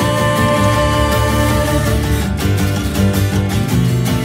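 Dense rock music with distorted electric guitars and steady drums playing continuously at full volume, no talking over it.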